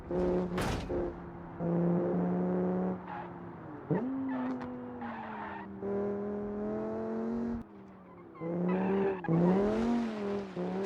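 A race car in the Rally Grand Tour video game, engine droning and revving with sharp tire squeals and skids as it slides off the track, loud and close with short gaps between bursts.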